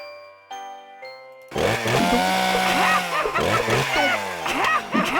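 A chainsaw in the horror video game Harvester revs and roars after a few sustained musical tones, a loud, continuous buzzing with rising and falling pitch sweeps and metallic clatter.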